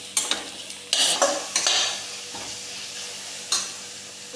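Chicken pieces coated in black pepper and chilli powder sizzle in a pan as a spoon stirs them, giving several loud scraping bursts over a steady frying hiss.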